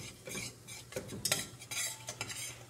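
Caramel stirred with a metal utensil in a stainless steel pan: repeated scraping and clinking strokes at close range, quiet and irregular, with a faint sizzle underneath.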